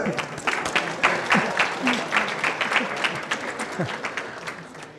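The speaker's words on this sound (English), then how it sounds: "you all deserve a round of applause for turning up and turning up on time" Applause from an audience gathered for an energy association event in Scotland, a steady wash of many hands clapping at close to moderate distance, with some voices mixed in.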